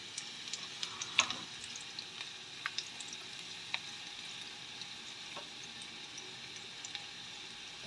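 Oil left over from frying fish sizzles faintly in a pan, giving a soft, continuous frying hiss with occasional small pops and stirring clicks and no voices.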